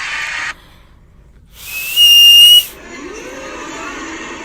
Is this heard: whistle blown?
yes